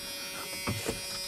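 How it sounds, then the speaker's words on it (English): A door chime buzzer sounds in an old junkyard Chevrolet S10 pickup, a steady electric buzz with a few faint knocks and rustles nearby, fairly quiet and close. "Hey, we got a door buzzer."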